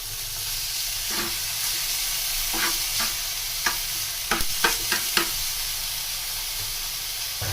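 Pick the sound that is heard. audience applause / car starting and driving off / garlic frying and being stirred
garlic frying and being stirred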